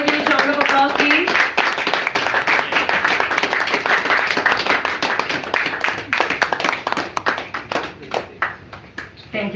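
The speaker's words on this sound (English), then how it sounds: "Can I have a huge round of applause, please?" An audience claps loudly and steadily at a website launch ceremony, the applause sustained for several seconds before thinning out toward the end.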